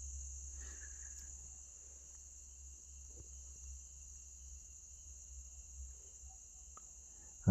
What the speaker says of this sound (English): I have a lot of insects in here